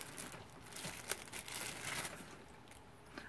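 Plastic bag crinkling faintly as a candle is pulled out of it, with soft irregular rustles and a small crackle near the one-second mark.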